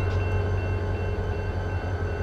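Freight train cars roll slowly in the Run 8 v2 railroad simulator, a steady low rumble with a constant hum and faint mechanical tones, loud and continuous with no talk.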